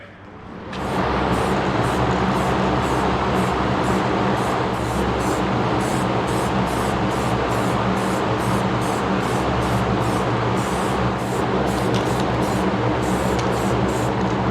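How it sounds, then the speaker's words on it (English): A steady hiss of aerosol spray paint on a Golf R32 DSG gearbox runs continuously for over ten seconds, with brief breaks and a low fan hum underneath. "I'll just start spraying it, see how it goes."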